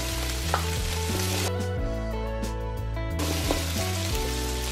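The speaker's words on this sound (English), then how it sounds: "we're going to put the garlic, 4 cloves of garlic, half of an onion" Garlic cloves and half an onion sizzle and fry steadily in oil in a pan for paella, a continuous close crackling hiss with no talking.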